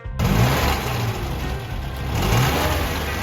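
A 1958 MG Magnette classic car with a B-series front-mounted engine revs loudly and close by, its steady throaty drone rising and swelling twice over a few seconds, with no talk.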